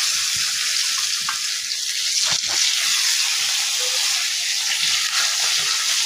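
Marinated fish frying in hot soybean oil in a wok in a village kitchen, a loud, steady crackling sizzle with occasional sharper pops throughout.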